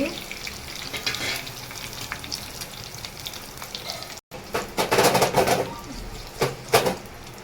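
Hot oil crackles and sizzles steadily, then after a brief break bursts into louder, sharper spitting and popping as mustard seeds, cumin and chillies hit the pan for tempering gongura dal.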